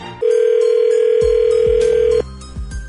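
A telephone on a radio prank-call segment gives a loud, steady dial tone for about two seconds, then a few sharp clicks follow as the line is dialed. No one speaks.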